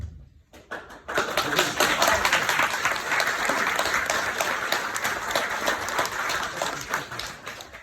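After a brief quiet moment, an audience at a music event bursts into dense, sustained applause, many hands clapping at once in a steady wash that holds for several seconds.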